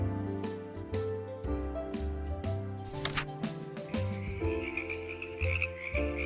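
A spring chorus of frogs croaking, dense overlapping rhythmic croaks alongside layered music, loud and continuous throughout.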